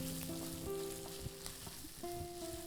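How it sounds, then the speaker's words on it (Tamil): Asafoetida fries in hot oil in a pan, a continuous soft sizzle under a steady humming tone, with a few light clicks as it is stirred, quiet and close. "எண்ணெயில் வந்து பெருங்காயம் போட்டிங்கன்னா கம்பல்சரியாக நீங்கள் வந்து அதை வந்து வதக்கி விடணும்"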